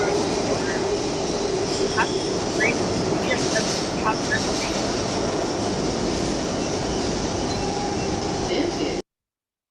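Subway train riding along, a loud steady rumble with faint clicks and squeals throughout, stopping abruptly near the end.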